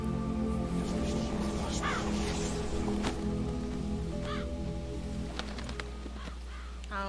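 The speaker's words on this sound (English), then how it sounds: "Or maybe it's a raven. I think it's a raven" A few harsh caws from a raven in The Witcher 3 ring out over steady rain and a low ambient drone, spaced apart and moderately distant.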